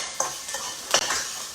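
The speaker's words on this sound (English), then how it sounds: "Let me stir here." A spoon stirring squash and chickpea soup in a pot on the stove, giving a few soft scraping strokes over a gentle sizzle, with no talking.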